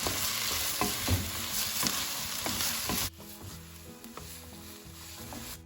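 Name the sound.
frying tempered onions and tomatoes with cashews in pan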